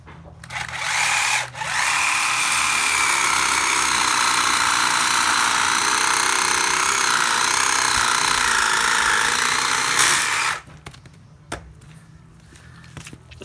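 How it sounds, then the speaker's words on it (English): A battery-powered alligator saw cuts through hempcrete blocks with a loud, continuous buzzing drone that runs for about nine seconds after a brief start, then stops, leaving quiet clicks and handling noise. "It's an alligator saw. This is quite a fancy battery powered one."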